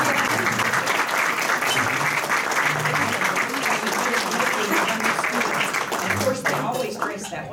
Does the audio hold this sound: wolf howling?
no